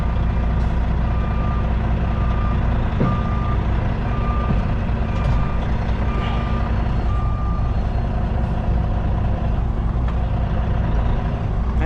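A truck's reversing alarm beeps steadily in a regular on-off rhythm over a loud, constant idling engine as the truck backs up to hook onto a trailer.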